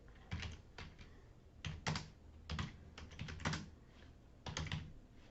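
A computer keyboard is typed on in short clustered bursts of close, crisp key taps separated by brief pauses, with no talking.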